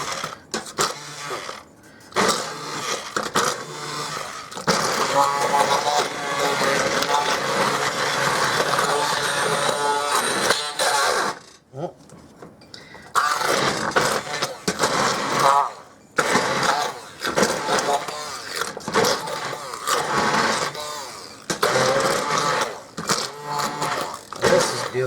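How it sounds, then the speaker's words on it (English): Immersion blender pureeing cranberry and apple jam, a loud buzzing whir that runs in long bursts, cutting out briefly midway and again near the end, with short gaps between pulses. "I'm just going to use my immersion blender on it."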